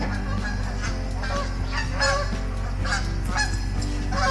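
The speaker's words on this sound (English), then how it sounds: "I hear the honkers flying above." Geese honk repeatedly while flying overhead, a series of loud, nasal calls overlapping in an irregular rhythm above a steady low background rumble.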